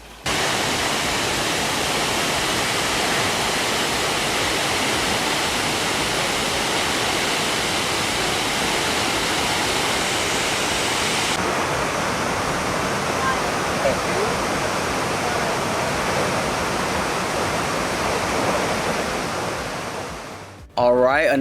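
Waimoku Falls in Maui, a tall waterfall beneath sharp cliffs, roars as a steady, dense wash of falling water that stays loud and unbroken from start to finish.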